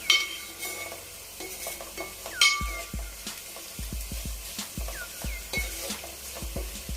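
Fenugreek seeds fry in oil in a pan while a spoon stirs and clinks against the metal, prepared for a korameenu fish curry; sizzling runs under repeated scraping and tapping strokes, close up, with no voices.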